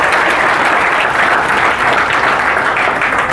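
A room of students at a police-exam coaching academy gives loud, sustained applause for a classmate, a thick unbroken wash of close clapping with no talk over it.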